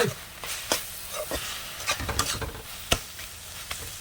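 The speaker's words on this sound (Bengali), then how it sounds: "এবার ভালো করে আমি খন্তি দিয়ে নাড়িয়ে নেবো" Spiced vegetables are stirred in a pan with a metal spatula, giving scraping clinks and soft scrapes over a light sizzle, with sharper knocks at irregular moments, close and fairly quiet, with no talking.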